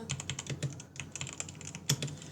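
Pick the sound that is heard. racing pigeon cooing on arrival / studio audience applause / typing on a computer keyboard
typing on a computer keyboard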